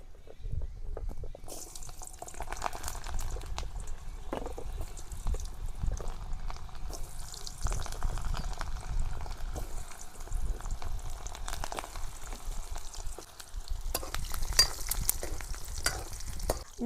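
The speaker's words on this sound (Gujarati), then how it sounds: "તો આપણે ડુંગળી તળવાની છે. તો ડુંગળી નાખી દઈશું." Sliced onions frying in hot oil for a Kathiyawadi whole-onion curry, giving a continuous soft sizzle with occasional stirring clatter, fairly quiet and close, mostly without talk.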